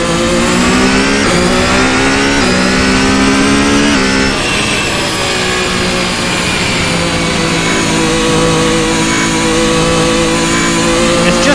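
A 2023 Ferrari SF23 Formula 1 car screams through a simulated lap of Spa in Assetto Corsa, its engine note loud and continuous, climbing in pitch through the gears with brief dips at each upshift.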